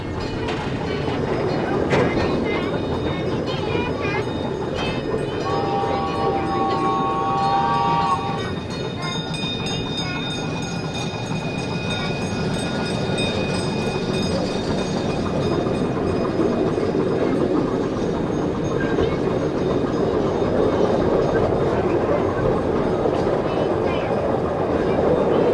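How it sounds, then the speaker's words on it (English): An old-style 1863 Safari Express zoo train at the Sedgwick County Zoo in Wichita rolls along with a steady, continuous rumble and faint rail clatter, a few brief whistle-like tones early on, and voices in the background. "the engineer is about to get this old train a-rolling here"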